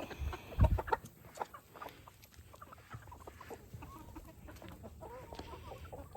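Chickens, some molting and featherless, cluck softly in a steady background murmur, with a louder thump early on and scattered farmyard noises throughout.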